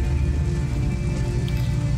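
Heavy rain falls steadily in the video game Detroit Become Human, a dense, even wash of drops that runs close and continuous through the whole moment with no talk over it.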